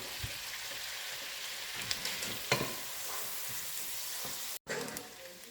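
Food sizzling and frying in a pan as it cooks until translucent, a steady crackling hiss close by with occasional stirring pops, briefly cut near the end.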